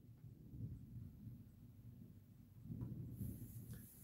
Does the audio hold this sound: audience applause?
no